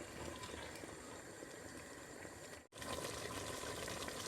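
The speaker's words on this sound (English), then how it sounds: "That is now bubbling away nicely" Red wine reducing in a pan for a mixed meat ragu, a soft, continuous bubbling and simmering hiss that stays steady throughout, broken by one brief dropout near the end.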